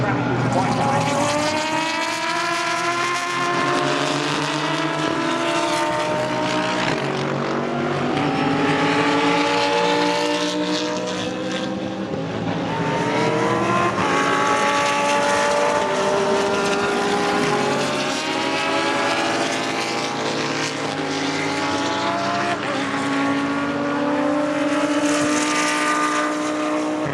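Aston Martin GT3 race cars circle Donington Park in a continuous, dense engine roar with shifting pitches as several cars sweep past, with commentary running over the top throughout.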